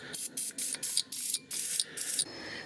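An aerosol can sprays lubricant onto brake caliper bracket bolts on a Subaru BRZ/FRS/GT86 in short, rhythmic hissing bursts, about eight quick squirts in a row, close and crisp.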